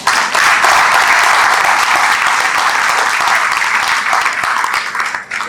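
A seated audience at a film screening and panel discussion gives a loud, sustained round of applause that carries on evenly and fades slightly at the end.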